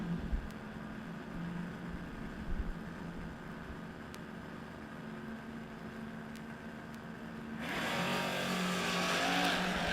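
Drag race cars, a Mustang and a Pinto, rumble at a distance at a spring drag racing event, then a loud engine roar surges in near the end as a car launches and accelerates.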